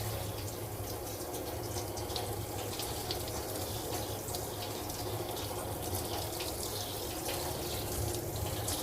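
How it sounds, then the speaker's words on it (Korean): Shower water runs steadily over a dog's body during a bath at a self-service dog wash, a continuous close spray and splash without pause. "강아지 몸 쪽에 샤워기를 대고 천천히 강아지가 놀라지 않게"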